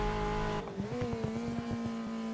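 Race car in the Reiza Brazilian Touring Car Classics game, Copa Classic class, engine held at high revs with a strong tonal whine, then a brief dip on a gearshift and a steady climb again, loud and close with rattling underneath.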